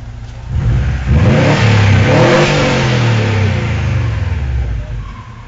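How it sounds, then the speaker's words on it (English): A turbocharged Legacy engine revs hard close by, a loud, rough rising roar that holds for several seconds before easing off, with a possible blow-off valve release as the throttle drops. "see if we hear the blow off down there."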